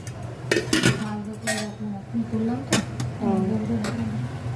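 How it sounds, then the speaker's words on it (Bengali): A lid goes onto a pot of freshly cooked rice in a home kitchen, giving a few sharp metallic clinks and clatters. A person keeps talking over the clinks. "ভাতটা ঢেকে রাখি"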